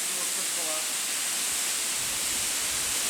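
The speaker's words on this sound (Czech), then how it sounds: "Zakázaný vodopád." A waterfall in the Höllental gorge gives a steady, dense roar of rushing water, loud and close, constant throughout with no breaks and no voices over it.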